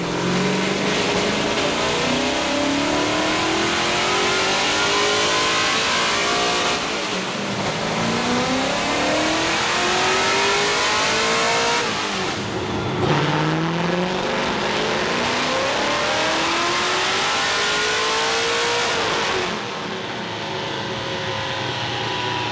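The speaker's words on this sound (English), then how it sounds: "This motor is rowdy." A tuned Nissan S14 engine revving hard in repeated long pulls, a loud raspy roar climbing and dropping in pitch several times with short breaks between, no talk.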